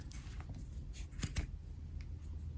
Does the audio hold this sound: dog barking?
no